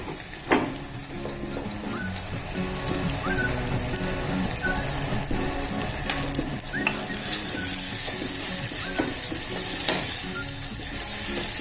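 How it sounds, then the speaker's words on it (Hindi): Chili paste fries in hot oil for a curry, a steady close sizzle with clinking spoon stirs against the pan and occasional scraping taps, no talk. "इन्हें भी इनका कच्चापन जाने तक भून लेंगे।"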